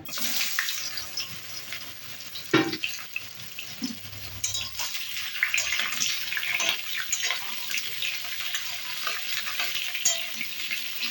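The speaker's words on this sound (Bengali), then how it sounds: "এবার পটলগুলো লাল লাল করে ভেজে নেব।" Pointed gourd (potol) frying in hot oil in a wok, a loud continuous sizzle with intermittent scraping stirs and a few knocks of the spatula, close up and without talk.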